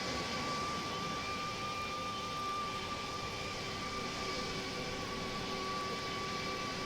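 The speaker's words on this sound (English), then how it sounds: "That was a smooth landing." Steady whine and broadband roar inside an airliner cabin just after touchdown on landing, a constant engine tone with rushing air noise and no talk.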